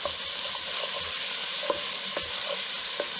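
Ginger and garlic sauté in a hot pan with peppers, a steady bright sizzle running throughout while a utensil stirs and scrapes at irregular intervals, close and alone with no voices.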